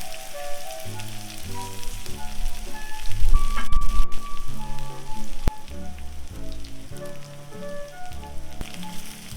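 Turmeric-and-salt-coated hilsa fish lightly frying in mustard oil, a steady crackling sizzle that runs throughout at close range, with a louder burst of spattering midway, and no talking.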